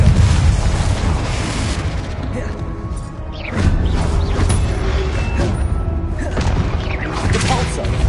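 A Confringo fire spell explodes in the video game Hogwarts Legacy with a loud, dense booming blast that swells over a continuous roar, with a voice heard amid the noise.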